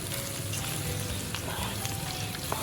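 Cebu-style adobo meat frying in oil until crispy, a dense continuous close sizzle with small bubbling pops and no talk.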